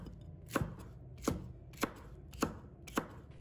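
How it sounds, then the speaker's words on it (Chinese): Red pepper strips chopped into small pieces with a knife on a cutting board, five crisp, evenly spaced knocks close by against a quiet background, with no talking. "切成条，再改刀切成小块"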